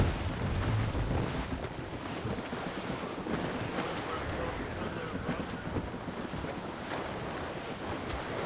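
Wind and waves at sea in Assassin's Creed Rogue aboard a sailing ship, a steady gusting rush of wind over rolling surf, constant and close with no voices.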